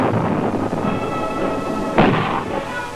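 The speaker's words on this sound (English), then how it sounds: "Artillery" Artillery pounds a hill during a Vietnam-era assault, a dense rumbling barrage with a sharper blast near the middle, loud and continuous.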